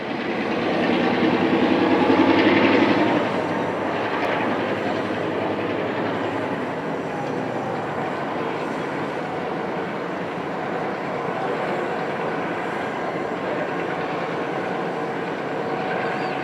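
Diesel locomotives shunting in a railroad yard beside a triple-track mainline, with a steady rumbling drone and faint rail clatter that swells slightly early on, then holds even.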